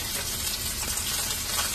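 Chicken pieces fry in a pan with a steady, close hiss and crackle of sizzling oil running throughout.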